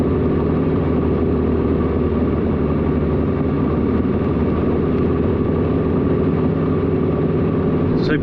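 A 4x4 crawling through snow in low range second gear with the locker off and tyres aired down to about 2 or 3 psi, its engine a steady, even drone throughout with no talk.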